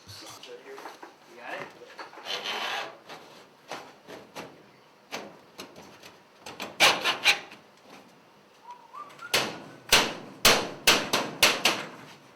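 Top S drive being fitted onto a sheet metal transition, with scraping and rubbing of metal followed by a run of sharp, close tapping hits, under occasional speech.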